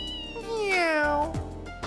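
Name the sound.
cat meowing in the video game Trails in the Sky SC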